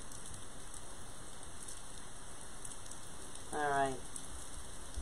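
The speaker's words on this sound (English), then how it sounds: "We just had a downpour here in southeast Texas about 45 minutes ago. Well, it moved to New York mighty fast" Rain falls in a steady downpour, a constant even hiss throughout, with a brief voice near the end.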